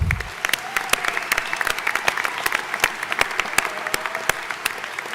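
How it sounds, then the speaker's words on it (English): Sustained audience applause for newly welcomed alumni at a Penn College summer commencement ceremony, dense steady clapping from a large crowd filling the hall throughout. "Let's give our alums another round of applause."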